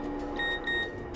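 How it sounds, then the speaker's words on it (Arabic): A phone chimes for an incoming text message: two short electronic beep tones in quick succession over a low indoor hum. "انا جاتني مسج"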